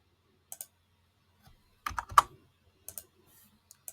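Short bursts of keystrokes on a computer keyboard, a few isolated clicks and then a quick cluster of typing, close and crisp against near silence.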